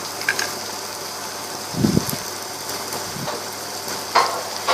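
Onions with clove, cinnamon stick and cardamom fry in a pan, a constant sizzle broken by a few scraping stirs and clinks of the utensil.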